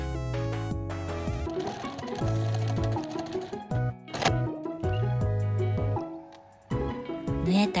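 A sewing machine stitches fabric along a marked line through fusible interfacing while making a patchwork pouch from scraps, a steady close mechanical whirring in bursts that start and stop, with brief pauses between runs.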